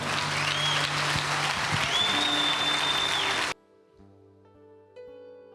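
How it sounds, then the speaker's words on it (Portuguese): A church congregation applauds steadily and loudly for about three and a half seconds with sustained tones underneath, then the clapping cuts off abruptly into quiet held tones. "aplauda ao Senhor"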